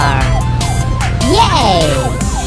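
A siren wails and sweeps up and down from an animated black police car, loud and close over a steady low hum, with a voice talking over it.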